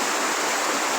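Floodwater rushes steadily after a night of heavy typhoon rain in a rural Philippine barangay, a dense, continuous broadband roar heard close and loud, with no voices over it.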